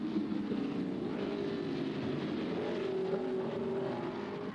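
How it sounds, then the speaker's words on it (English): Mid-1950s Formula 1 race cars at Aintree during the 1955 British Grand Prix, a steady droning engine roar held at an even, moderate level throughout, with no distinct pass-by peak. "Fangio and Moss go past"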